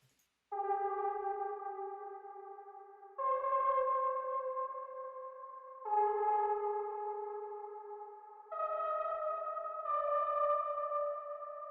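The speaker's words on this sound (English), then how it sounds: "This is what the lead sounds like just by itself." One-shot lead synth from a one-shot kit, programmed in FL Studio, plays five sustained bright, harmonic-rich notes in a slow melody, each held for about two to three seconds, loud and alone.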